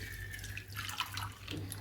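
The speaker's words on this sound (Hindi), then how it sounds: "इसमें डाल दीजिए 1 गिलास पानी" A glass of ordinary water is poured into a bowl holding green chilli stems in a kitchen, a short, close trickling and dripping splash over a low steady hum.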